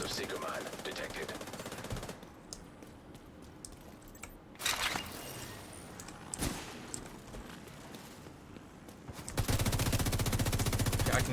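Automatic gunfire bursts in The Division 2 PvP, with loud rapid fire returning near the end after quieter stretches broken by short sharp shots, under ambient game noise.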